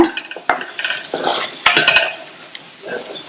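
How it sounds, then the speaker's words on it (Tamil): A utensil scrapes and clinks against a pan while broad beans are stirred and sautéed, with a soft sizzle underneath, close and busy. "லைட்டா ஒரு வதக்கி விட்டுட்டு ஸ்டவ் ஆஃப் பண்ணிருங்க."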